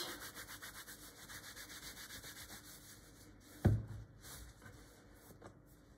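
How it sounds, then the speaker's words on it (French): A clean cloth towel rubs over a rinsed raw duck breast, giving soft, steady rhythmic wiping strokes with one sharper thump partway through, close and fairly quiet with no talking. "vous prenez un torchon propre et vous le séchez"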